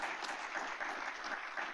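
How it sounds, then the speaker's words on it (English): An audience claps steadily in a dense, continuous round of applause, moderately loud, without voices standing out. "let's give them a round of applause for their insights"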